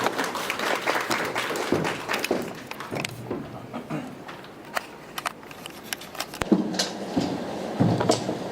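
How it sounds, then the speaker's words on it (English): A crowd claps in scattered, uneven bursts at a cybersecurity awareness launch event, the applause thinning in the middle and picking up again near the end. "Please give me a round of applause."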